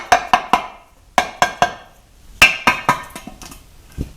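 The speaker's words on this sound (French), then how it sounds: "on va juste un petit peu le frapper, de préférence avec un petit marteau en caoutchouc" A small rubber mallet taps a stuck transmission pan on a Chevrolet TH 350 automatic gearbox: sharp, close knocks in loose clusters of two to four, with short pauses between groups.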